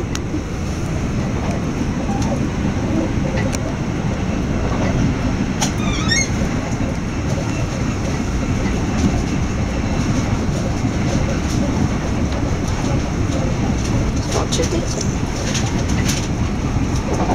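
Cheap day passenger train bound for London Victoria, a constant low rumble of carriage and rails heard from inside, with faint clicks and a brief high squeal, pigeon-like cooing and a little quiet talk.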